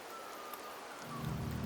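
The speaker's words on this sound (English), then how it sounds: "The rains in Septimont never seem eager to leave this season." Steady rain falls in the overcast Septimont region of the game Wuthering Waves, a soft continuous hiss that thickens into a fuller, heavier downpour near the end, with no talk.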